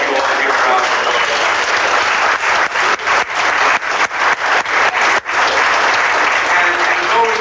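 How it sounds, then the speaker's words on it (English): Audience at a club event breaks into sustained, loud applause, dense clapping that holds steady, dips briefly in the middle, then swells again to the end. "I'd like you all to give a round of applause."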